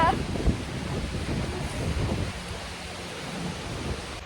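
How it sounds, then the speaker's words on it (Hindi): Rain falls steadily outdoors in monsoon weather, with wind gusting across the microphone as a continuous broadband rush, a few brief louder bursts standing out near the start. "गाइस ये बारिश का मौसम ये है"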